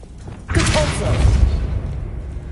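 A Depulso spell hits in Hogwarts Legacy on hard difficulty: a sudden loud burst with a whooshing blast that settles into a sustained rumbling thud, with game noise continuing underneath.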